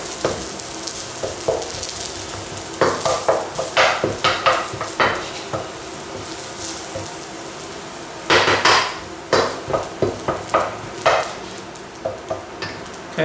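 Garlic cooks in oil on low heat in a pan, a faint sizzle running under repeated scraping and clinking strokes of a utensil against the pan.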